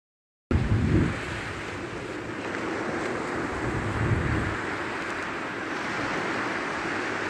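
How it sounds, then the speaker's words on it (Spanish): Surf rolling onto a shore, a steady broadband wash of sea waves with wind noise on the microphone, continuous and fairly loud for about seven seconds after a brief silent start. "que es el sonido del mar"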